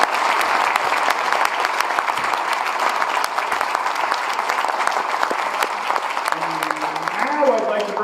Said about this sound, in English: Let's have a big round of applause for both our candidates here.